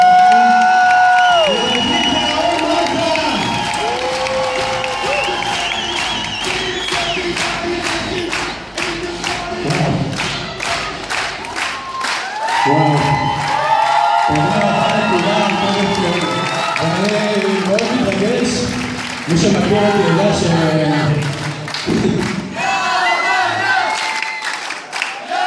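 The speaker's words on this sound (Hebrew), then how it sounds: "נו, הרבה מחיאות כפיים," A large audience at a rap show claps and cheers loudly and without a break, with whoops and shouts over a dense crowd roar. The noise stays at full strength throughout.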